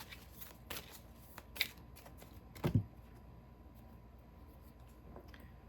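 Large oracle cards being shuffled by hand, a few soft riffling bursts with a sharper flurry midway, then near quiet, close and fairly faint.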